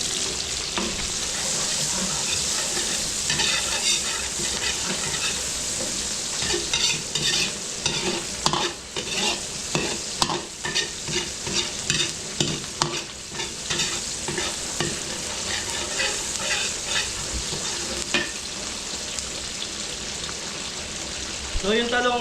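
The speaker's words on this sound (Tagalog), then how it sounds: "Ayan lang natin lumabas yung aroma ng ating bawang at mag-golden brown" Garlic sautés in a restaurant pan, a continuous sizzle broken by repeated scraping and stirring strokes of a utensil, fairly close; brief voices talk over the frying now and then.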